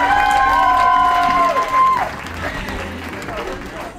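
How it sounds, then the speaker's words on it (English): Audience at a comedy hypnotist show in Salt Lake City claps and cheers, a loud crowd roar with a sustained whoop at first, then easing to softer ongoing applause with voices mixed in. "Another big warm round of applause. Make them feel good."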